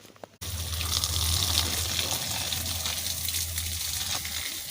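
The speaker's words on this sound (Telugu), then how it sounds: "నీళ్ళు అయితే చాలా బాగా వస్తున్నాయి" Water gushes steadily in a garden after a brief quiet start, a continuous, fairly strong rushing flow like a pipe or tap running, with no voices heard.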